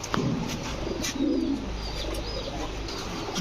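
A pair of Black Tailmark Fantail pigeons coo softly nearby, low repeated rolling coos with faint chirps and a little flapping in the background.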